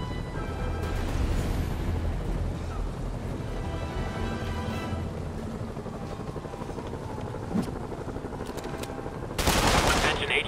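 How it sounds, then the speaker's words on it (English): Video-game gunfire from stolen prison vehicles in Marvel's Spider-Man rattles beneath a constant helicopter rotor roar, with a loud burst of shots near the end and a radio voice speaking under the din. "All units, prisoners are opening fire from stolen vehicles."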